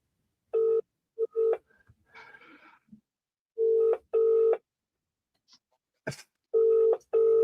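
A telephone rings in repeated double bursts, a pause between each pair, with soft muffled sounds and a brief click in the gaps, no one answering.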